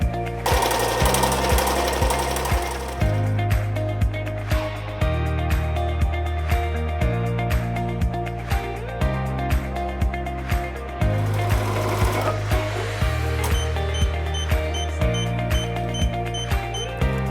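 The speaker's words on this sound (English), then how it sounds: "Press the Start Stop to start your embroidery." A Platinum MN 1000 embroidery machine stitches in a loud, steady mechanical chatter, running continuously with rhythmic pulsing and brief shifts in pace as it works through the design.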